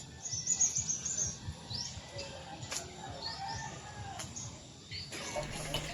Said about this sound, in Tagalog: Ang dami palang mga ibon dito.